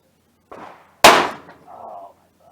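A single sharp gunshot from a .22 rifle firing Winchester Silver Tip ammunition during an outdoor accuracy test, loud and close, with a brief mechanical sound just before and a fading tail and faint noises after.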